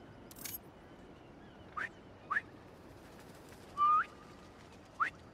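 Short rising whistles in Marvel's Spider-Man 2, a handful of brief tonal chirps spaced through the clip with one longer sustained note, fairly clear over a low background.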